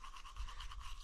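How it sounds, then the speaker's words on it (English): Close, steady scrubbing of a toothbrush as someone brushes their teeth, a rapid rhythmic bristly rasp running the whole second at a quiet level, heard while wild camping on Dartmoor. "And all you can hear is like fucking him brushing his teeth."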